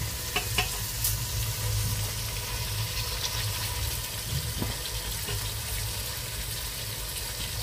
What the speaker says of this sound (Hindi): चावल इसमें ऐड कर देंगे।